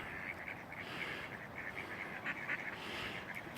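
Ducks and other birds by a river quack and call in a busy, continuous chorus at moderate distance over a soft outdoor hiss.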